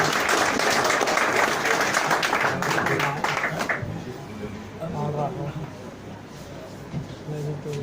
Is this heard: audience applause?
yes